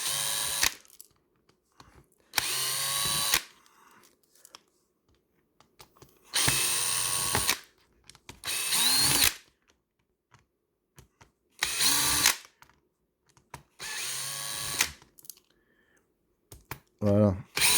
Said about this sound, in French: tournevis électrique avec la bonne empreinte